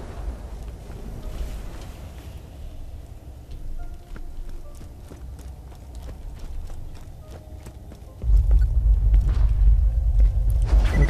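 A low, continuous rumble with scattered knocks and creaks, swelling into a heavy, louder roar near the end, an earthquake in the video game Borderlands 2.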